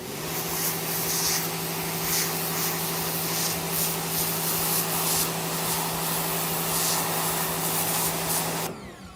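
Sun Joe SPX3000 electric pressure washer blasting a banana, a steady loud hiss of water spray over a constant motor hum, running continuously before cutting off abruptly at the end.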